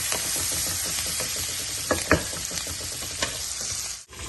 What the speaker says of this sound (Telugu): ఆనియన్స్ చూడండి బాగా వేగిపోయాయి